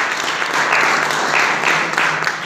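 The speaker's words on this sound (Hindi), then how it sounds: "इनके लिए एक बार ताली जोर से बजाइए।" An audience at an awards ceremony in Tonk claps loudly and steadily, a continuous thick roar of applause with a faint voice in the background.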